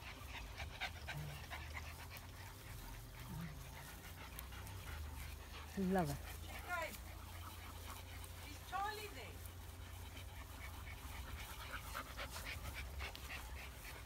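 A bull terrier panting softly nearby, with a few faint whimpers and yips, under quiet background noise and occasional people talking.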